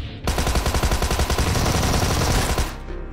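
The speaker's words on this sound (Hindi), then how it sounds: "दूसरी गन निकाल के ठोक दिया" Sustained burst of automatic fire from a second gun in BGMI/PUBG Mobile, rapid rhythmic shots rolling for over two seconds, loud and close, then cutting off abruptly.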